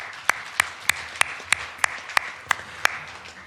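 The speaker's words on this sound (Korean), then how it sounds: "우리 주님께 함께 감사의 박수 한번 올려드립니다" A church congregation at a New Year's Eve service claps together in a steady unison beat, about three sharp claps per second, over a soft wash of room noise.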